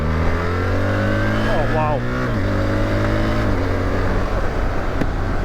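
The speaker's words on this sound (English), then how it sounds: "The stock exhaust actually sounds good as well" A BMW R1300GSA motorcycle with its stock exhaust hums steadily and revs up and down, with a brief exclamation from a voice partway through.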